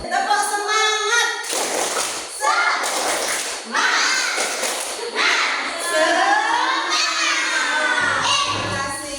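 Schoolchildren in a classroom perform a rhythmic group clap chant, bursts of clapping and thumps mixed with children's voices chanting along, loud and close.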